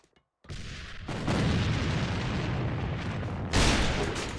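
A grenade blast booms loud and broad inside the shooter game A.V.A during a tournament grand final, followed by sustained rumbling debris and a second sharp burst near the end.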